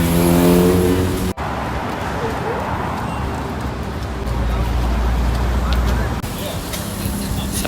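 A tour bus engine in Alaska idling with a steady low rumble and hum, joined by traffic noise, while a person talks over it for most of the stretch.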